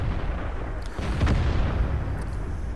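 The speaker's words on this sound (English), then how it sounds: "You can hear the artillery shots going off." Artillery shots in the tank game World of Tanks on the Winterberg map, heard as a muffled distant boom over a steady rumble of engine and ambient battle noise.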